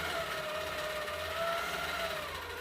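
A Pro Stitcher Avante quilting machine stitches a loaded quilt in horizontal lock mode, giving a steady, close mechanical whir with a faint rising and falling motor tone and no talk.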